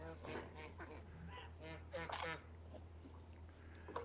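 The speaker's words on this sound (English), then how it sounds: "I can't see the geese over to the left." Geese and ducks on a farm at night give a series of honks and calls at moderate distance, over a steady low hum, with people talking nearby.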